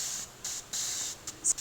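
A hair and face spray bottle releases a continuous fine mist in several hissing bursts close to the ear, soft and airy, with no one talking.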